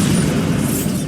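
Explosive Bombarda spell from Hogwarts Legacy, a sustained booming blast with a heavy low rumble and crackling debris, loud and close, rolling on for about a second with no talk.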